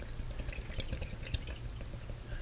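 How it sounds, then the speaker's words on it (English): Water poured into a car radiator with a newly installed replacement radiator, a faint, steady splashing and trickling with small irregular drips, close by and without talk. "you just fill up with water until it starts overflowing"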